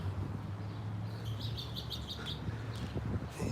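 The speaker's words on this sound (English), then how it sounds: "These birds." Birds chirp in a quick run of short, high tweets, faint against a steady low hum of traffic.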